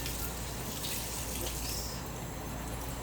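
Faucet water runs steadily into a sink while Hatch chile peppers are rinsed to wash out their seeds, a constant close splashing stream with no talk.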